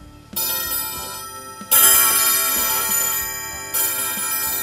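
A steel gong from a German Westminster Glocken-Spiel Model 107 wall clock, struck three times in succession, each bright, tinny metallic strike ringing and decaying over the next, close and loud with no talking.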